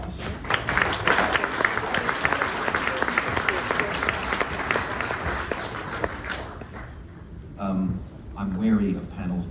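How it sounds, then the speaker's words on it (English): Audience applause at a quantum computing industry conference panel introduction, steady dense clapping for about six seconds before fading, followed by a voice beginning to talk. "Come on, give them a round of applause."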